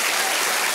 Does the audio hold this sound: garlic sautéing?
no